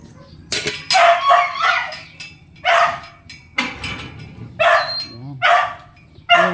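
A stray dog barks in several loud, close bursts spread across a few seconds, with faint whimpering between the barks.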